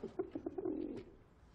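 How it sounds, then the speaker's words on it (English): A pigeon brought indoors in a box coos briefly, a soft close burbling series of low notes that fades out within a second or two. "You brought a pigeon into my house."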